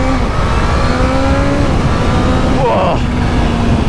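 A Kawasaki Z H2 motorcycle in full power mode with traction control off accelerates under loud, steady engine and wind roar, with the engine tone climbing and then shifting, while a rider talks over it.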